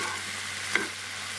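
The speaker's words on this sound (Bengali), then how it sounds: "এই নরম নরম করে ভাজতে হবে" Yellow cauliflower frying with curry spice in a pan, a soft steady sizzle throughout with a brief stir near the middle, close and fairly quiet.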